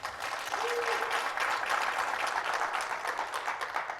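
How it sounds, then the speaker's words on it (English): Audience at an evening talk event in Daytona applauding organizers and sponsors, a dense, steady burst of clapping from a sizeable crowd, with a faint voice briefly audible. "If we could have one more round of applause for them."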